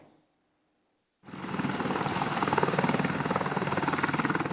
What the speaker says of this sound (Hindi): भारतीय वायुसेना के बेड़े में अपाचे AH-64E लड़ाकू हेलीकॉप्टर शामिल होने से इसकी ताकत में और इजाफा हो गया है